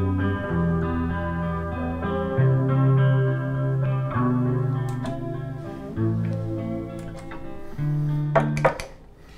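Electric guitar playing sustained chords and notes through a shimmering chorus and gritty distortion, with effects triggered by a sewing machine pedal, steady and fairly loud, ending with a few sharp picked accents.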